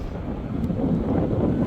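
Steady wind blowing outdoors on a walking tour in Stockholm beside a palace, a continuous low rushing roar buffeting the microphone for a brief moment with no talk.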